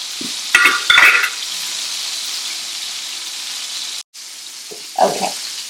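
Kebab fries in a pan with a steady, loud sizzle, broken by bursts of scraping and stirring near the start and again toward the end, with one brief dropout.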